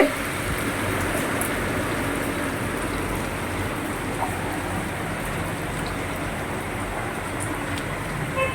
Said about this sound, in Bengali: এত জল বৃষ্টির জল আসছে